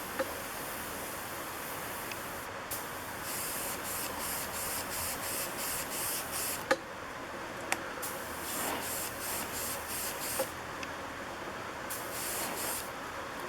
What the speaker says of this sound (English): you can just blow air on there from your airbrush